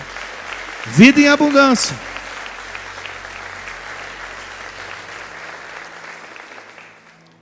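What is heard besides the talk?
congregation applauding in church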